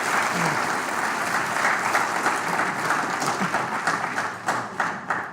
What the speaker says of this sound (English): So let's please put our hands together to give a winning clap